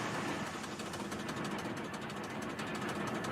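A Tomy toy quarry machine called Thumper running hard: a steady, loud, buzzing mechanical whir with rapid rhythmic pulsing, close and continuous, with no voices.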